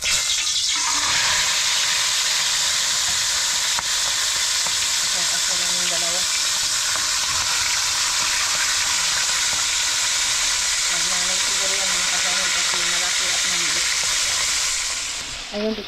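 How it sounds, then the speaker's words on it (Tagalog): Fresh milkfish frying in hot oil, a loud, steady sizzle with crackling and spattering that runs without a break, while faint speech sits underneath. "Kaya magprito na tayo. Yan. Mainit na yung mantika."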